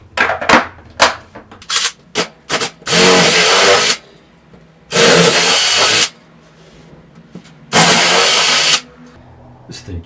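A power drill fitted with a 12.5mm bit bores a hole for a portable bench vise setup, whirring loudly in three bursts of about a second each between shorter clicks and knocks close by.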